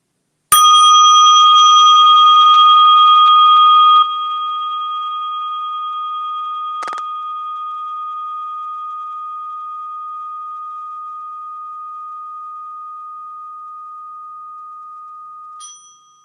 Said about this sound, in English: I do that by ringing this little Tibetan bell.